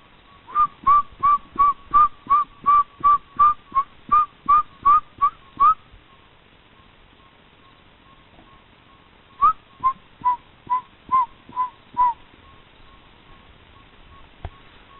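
Human-like whistling in the woods: a run of about a dozen short, evenly spaced whistled notes, a pause, then a second slower series, each note breathy and moderately loud.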